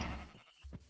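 A single short sheep bleat from the Minecraft video game, a quick wavering cry heard close and fairly quiet, followed by a brief second grunt-like bleat.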